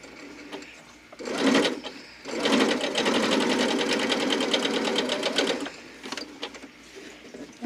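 A sewing machine straight-stitching cotton duck fabric at a 2.0 stitch length: a short burst, a brief pause, then about three seconds of steady, fast mechanical whirring and clatter, followed by lighter clicks as it slows.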